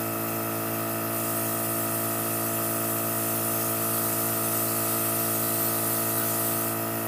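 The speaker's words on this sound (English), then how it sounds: "if I want to get more coverage on a blemish, get right up to it and spray." A Temptu airbrush sprays makeup foundation with a constant high hiss over the steady hum of its small compressor, close and unbroken.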